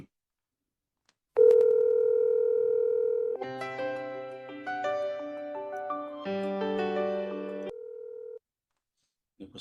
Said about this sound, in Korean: 저 제보 쪽으로 전화 걸 거고요.